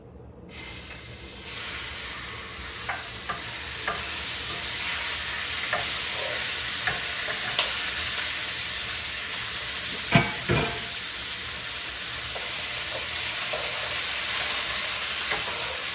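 Pork frying in hot, lightly smoking vegetable oil in a pot, giving a loud continuous sizzle and hiss with faint stirring clicks and one brief clatter near the middle, no speech.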